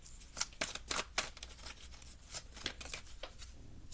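Tarot cards are pulled and handled close up, giving a series of quick papery snaps, flicks and rustles at an uneven pace, fairly quiet, with no speech.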